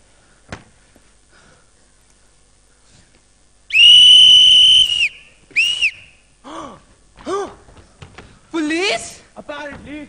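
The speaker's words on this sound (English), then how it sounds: "Oh, blow the whistle." A police whistle shrills in a stage play, one long loud blast followed by shorter whistled bursts mixed with excited voices and exclamations.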